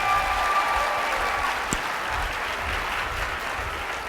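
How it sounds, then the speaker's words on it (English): A crowd at a business talk applauds Bob Gridelli with steady, dense clapping that holds a fairly even level throughout, and a faint single tone sits briefly near the start. "let's give Bob Gridelli one more round of applause."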